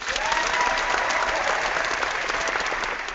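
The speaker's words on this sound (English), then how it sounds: "This dude is going ham with the claps." Sustained applause from a small audience, dense rapid clapping holding at an even level throughout.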